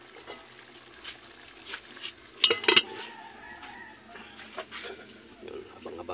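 A lid clanks onto a cooking pot of chicken neck, a short cluster of metallic clinks and rattles rising above quiet kitchen background, with someone speaking softly.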